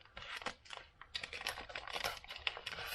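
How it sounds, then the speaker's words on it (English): A plastic package holding a blue-sparkle fishing lure being ripped open, a quiet run of crinkling and tearing with dense crackly bursts over about three seconds, close by, no talking. "Let me pull this out of the package. Just rip this sucker open here."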